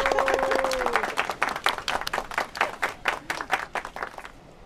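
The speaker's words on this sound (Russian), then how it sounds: "Аплодисменты жгучие." A game show audience breaks into applause, dense clapping at first that thins into scattered, rhythmic claps, loud and close, with a brief voice at the start.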